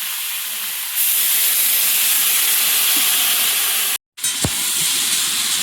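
Water poured into a hot pan of fish curry made with pond koi fish and vegetables gives a loud, steady hiss of steam and sizzling that runs throughout, briefly cut off near the end, with no talk.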